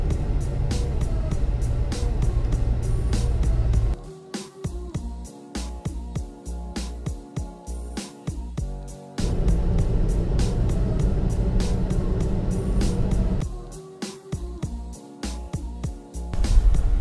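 Car driving along a road, a loud steady rumble of engine and tyres from inside the vehicle that drops away twice and then returns.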